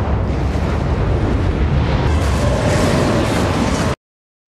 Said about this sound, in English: the explosion causes significant destruction in the city